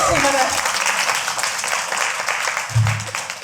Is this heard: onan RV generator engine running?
no